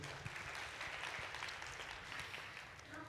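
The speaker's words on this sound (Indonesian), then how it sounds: "Kasih tepuk tangan buat GG." Church congregation clapping for a young girl during a sermon on joyful giving, a dense, steady patter of hands that stays moderately loud across the whole stretch, with no voices over it.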